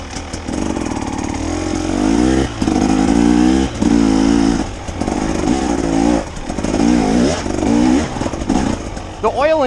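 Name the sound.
KTM 300 XC-W two-stroke dirt bike engine revving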